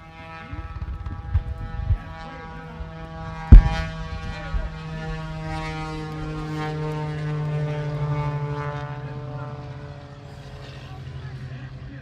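Aerobatic monoplane and biplane at an air show drone with a steady propeller engine hum that rises toward the middle, while a commentator talks throughout and a sharp bang cuts in early on.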